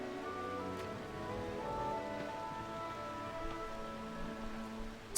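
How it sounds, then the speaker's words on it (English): Heavy rain falls in the video game WOTV, a steady, fairly soft hiss of downpour that runs throughout with faint tonal music beneath it. "Why must it rain so heavily?"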